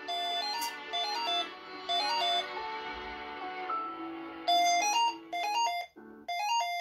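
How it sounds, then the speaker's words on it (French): A mobile phone ringtone plays a bright, repeating electronic melody in several bursts with short gaps between them, loud and close, with no talking over it. "Mon téléphone sonne ici, ça sonne là-bas."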